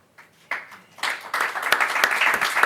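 Audience clapping breaks out at a speech by the New York Attorney General, starting as scattered claps and swelling into steady, fairly dense applause.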